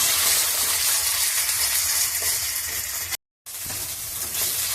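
A paste of ground poppy seeds, cashews and raisins is stir-fried in a pan, giving a steady, close sizzle that cuts out for a split second near the end before resuming.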